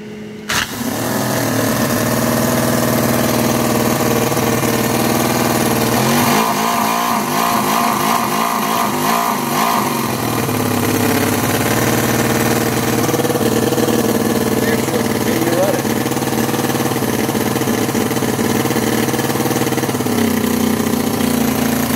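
A Cison L4-175 four-cylinder model engine running on nitro RC fuel, a loud, close, steady idle with a stretch of rougher, pulsing revs partway through and a slight pitch shift near the end.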